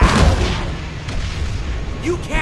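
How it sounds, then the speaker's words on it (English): In the Kung Fu Panda video game, a bomb goes off with a loud booming burst at the start that fades into a rumbling tail, followed by a couple of short whooshing effects near the end. "An explosion!"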